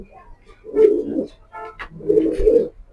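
A female Down-shape pigeon cooing up close, two low, throaty coos separated by a brief pause.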